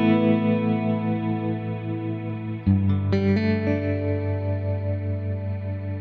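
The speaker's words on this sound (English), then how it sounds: "let's choose one of their more sort of shimmer style reverbs" Electric guitar through an Axe-FX 3 shimmer-style reverb, sustained chords ringing with a bright, washy tail that blooms upward; a new chord is struck midway and swells again, with no voices.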